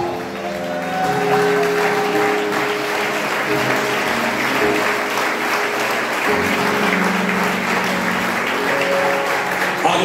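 A church congregation bursts into sustained applause acclaiming Jesus during a sermon, a dense steady clapping filling the room for about ten seconds, with sung or held tones ringing faintly beneath it.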